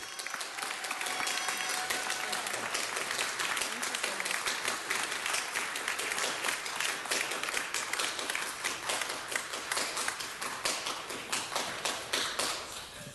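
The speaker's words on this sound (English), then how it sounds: "Please join me in giving Monica Alcaraz a huge round of applause." A large audience claps for an honoree at a public gathering, sustained and dense applause with rapid, even hand claps that stays loud and steady for over ten seconds before easing slightly at the end, with no voices on top.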